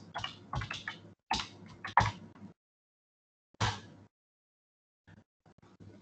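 Keys clatter on a computer keyboard as a short command is typed, in quick bursts of clicks separated by brief pauses and one longer gap, with no voices.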